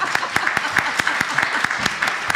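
Steady clapping from a single person, sharp regular claps repeating about every fifth of a second, close and fairly loud.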